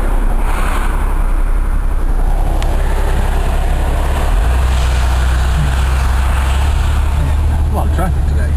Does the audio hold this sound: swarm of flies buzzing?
no